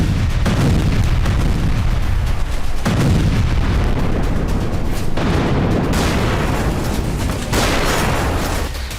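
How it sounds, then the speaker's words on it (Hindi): Repeated heavy booms of Russian FAB-300 aerial bombs striking in Kursk, loud and continuous with rolling blasts and rumbling low-end energy throughout, no voices. "कुर्स्क में रूसी सेना फैब 300 बमों से विध्वंसक हमले कर रही है।"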